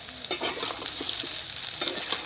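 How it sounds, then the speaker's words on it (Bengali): Fresh garden vegetables frying and being stirred in a pan, with a steady sizzle broken by repeated scraping stirs close up, no voices. "সবজিগুলো কিন্তু খুব সুন্দর ভাজা হয়ে গেছে।"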